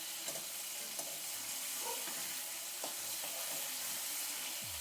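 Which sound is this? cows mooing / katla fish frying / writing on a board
katla fish frying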